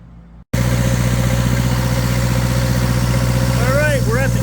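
An Onan generator runs steadily in a generator room, a loud, even engine drone with a strong low hum that starts abruptly after a brief quieter moment. Faint chirping sounds come in near the end.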